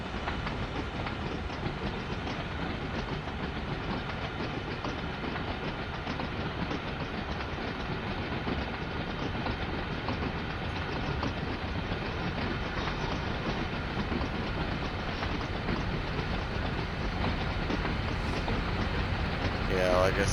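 Long loaded coal train rolling slowly in Train Sim World 5 on the Cresson route, a continuous heavy rumble of wagons with rhythmic clickety-clack over the rails, steady and close throughout with no speech.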